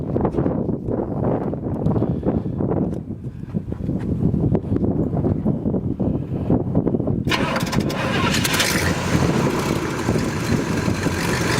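A 1967 Pontiac GTO's big V8 engine cranks for several seconds, then catches and roars to life, settling into a loud, rumbling idle close by.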